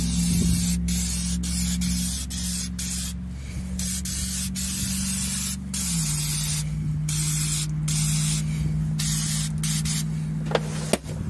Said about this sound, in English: Probably going to get the air compressor out, blow off all the flakies